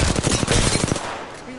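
Rapid automatic gunfire from Apex Legends, a tight rattling burst of about a dozen close, loud shots lasting under a second before dropping to a low hum.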